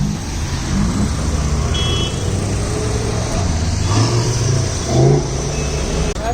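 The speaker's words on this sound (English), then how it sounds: "we got a good V10 sound for the first time in the day" Lamborghini V10 engine in dense Mumbai traffic, a steady loud low drone with a brief swelling rev toward the end, mixed with surrounding traffic noise.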